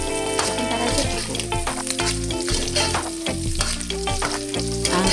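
Small anchovies fry in plenty of hot oil for a cassava-leaf vegetable dish. A loud, steady sizzle and crackle runs throughout, with stirring scrapes and no voices.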